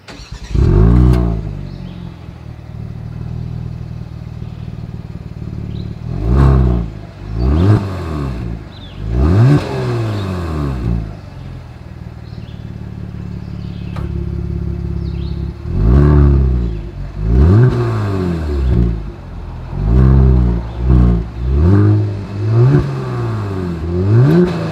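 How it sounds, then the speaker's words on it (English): A 2022 Genesis G70 sports sedan's exhaust revs repeatedly, sharp rising and falling bursts over a steady idle, loud and close, with no talking. "here is that exhaust clip"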